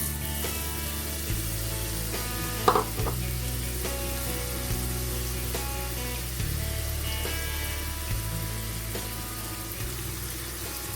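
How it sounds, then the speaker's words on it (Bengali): Chopped onion fries in olive oil with a continuous, even sizzle, close and steady, beneath a low tonal hum that shifts pitch in steps and a single brief clatter. "এই অলিভ অয়েলে আমি পেঁয়াজটাও দিয়ে দিচ্ছি"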